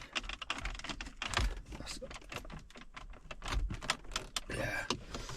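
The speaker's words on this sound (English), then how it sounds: "So these literally just pop out. They're held in with the clips here." Plastic trim clips releasing from a BMW F30 335d dashboard, a string of sharp close clicks and snaps with handling rattles, loudest near the start and middle.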